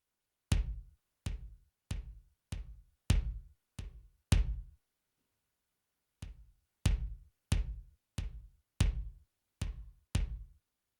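Twelve punchy, deep kick thumps from a stomp box kick pedal on its second setting, in a steady rhythm, one pause splitting them into two groups, each hit with a short boomy decay and clicky attack.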